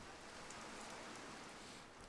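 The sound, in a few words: rain falling during a football match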